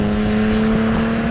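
A Nissan 370Z with its VQ engine hums in a sustained, loud, tonal drone, holding a steady pitch with slight wavering, heard alone.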